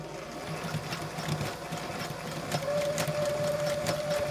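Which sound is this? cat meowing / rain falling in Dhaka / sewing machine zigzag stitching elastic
sewing machine zigzag stitching elastic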